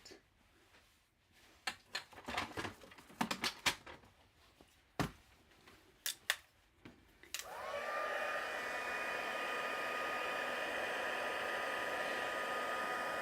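A heat tool blowing to heat set embossing on a handmade card starts after some quiet handling clicks and taps, then holds a loud, steady whir close by to the end.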